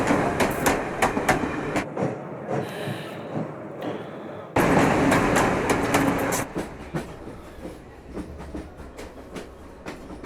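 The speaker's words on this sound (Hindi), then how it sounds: "Train number 17255 प्लेटफॉर्म नंबर 7 पर आ चुकी है।" A passenger train pulls into platform 7 at an Indian railway station, with loud rolling clatter, repeated clanks and sharp knocks from the wagons, close by and continuous, and a sudden surge in loudness midway.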